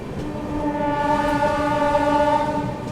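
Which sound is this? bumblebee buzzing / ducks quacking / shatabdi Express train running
shatabdi Express train running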